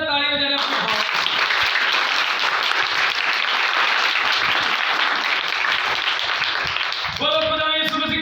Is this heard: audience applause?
yes